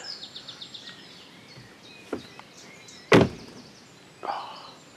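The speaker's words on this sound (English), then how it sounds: "Oh, I think the car door's noisy." A car door opens and slams shut once, loud and close, before dawn. Rhythmic birdsong chirps in the background, and a smaller thump follows.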